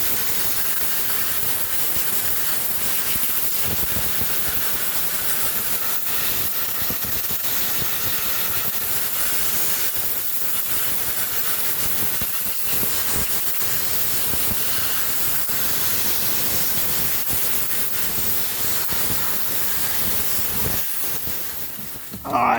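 Compressed air blasts diesel out of the fuel lines of a 1985 Mercedes 300SD engine, a loud steady hiss that runs unbroken for a long stretch and cuts off near the end.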